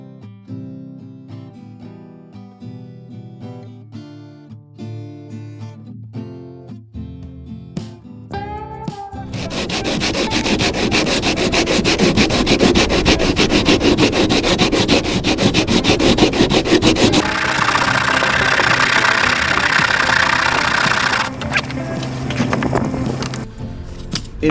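Putty on a yacht being sanded with sanding discs, a loud harsh continuous grinding rasp that builds after a short stretch of background music, steady and close, changing tone near the end as the discs clog.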